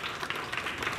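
An audience claps to welcome a visiting MLA at a public function, producing a short burst of dense, steady applause that sounds somewhat distant and soft.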